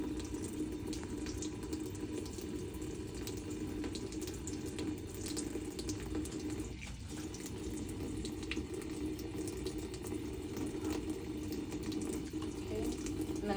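Hands scrubbed and rubbed around a ring under a steadily running sink faucet, the water a continuous close hiss throughout with slight shifts as the hands move through the stream.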